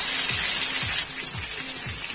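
Fish frying in hot oil for a masala fish curry, giving a steady broadband sizzle and crackle throughout, with faint low thumps recurring in a slow rhythm underneath.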